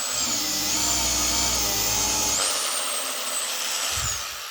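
A Vitals angle grinder spins at its lowest speed setting, a steady whining motor drone with a high tonal whine that shifts slightly midway, loud and close with no talking.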